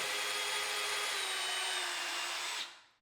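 A power drill bores into wood for a board and batten wall with a loud, steady high whine, close by, running for over two seconds before spinning down and stopping.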